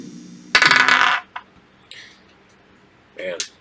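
New metal dice clatter and rattle across a table in one loud, busy burst lasting about half a second, followed by a few faint clicks as they settle, with brief voice sounds after.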